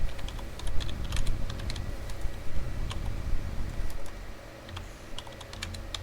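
Steady typing on a computer keyboard, a close, rapid stream of clicks over a low room rumble, with no talking.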